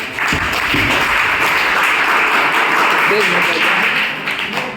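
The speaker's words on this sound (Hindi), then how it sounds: "तो तालियां बजाएं इनके लिए।" An audience at a government school career counselling program in Kasorkala applauds the directors, a steady broad wash of clapping holding throughout with some voices mixed in.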